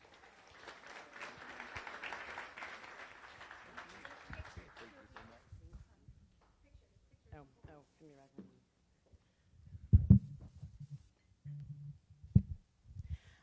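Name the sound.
audience applause welcoming speaker Jennifer Taylor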